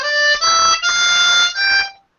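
A harmonica played in G cross harp plays a short bluesy phrase of four bright, reedy notes with brief breaths between them, close and clear, then stops.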